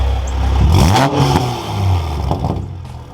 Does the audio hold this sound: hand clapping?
no